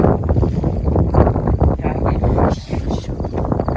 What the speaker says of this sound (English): It's too windy to be recording.